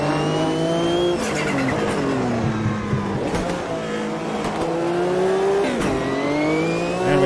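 A race car in Automobilista 2 brakes hard and runs wide in a World Sportscar Championship race, engine pitch falling and rising through downshifts with tire squeal and skidding, loud and continuous.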